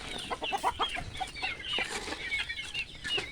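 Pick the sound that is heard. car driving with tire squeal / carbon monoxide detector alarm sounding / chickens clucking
chickens clucking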